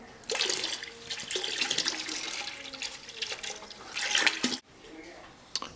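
Water poured into a prickly pear mead must to cool it before adding yeast, a steady splashing gush running for several seconds, stopping abruptly near the end with a brief trickle after.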